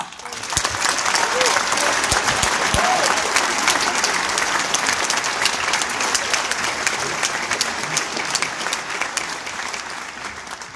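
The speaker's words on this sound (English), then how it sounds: "will you please join us in a round of applause for the fantastic Mrs. McGovern and the school orchestra" Audience at a school prize-giving applauding the school orchestra and its conductor, sustained full-room clapping that holds steady for about ten seconds with light crowd murmur.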